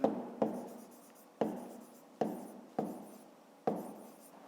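Pen or pencil writing on paper while working a 5th-grade math exercise, six crisp strokes at irregular intervals, each starting sharply and trailing off, close and quiet, with no talk.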